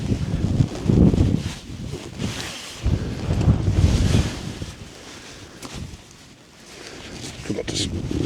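Wind buffets a tent pitched outdoors for a wind test, gusting loudly and unevenly with low rumbling bursts that rise and ease, while someone talks over it.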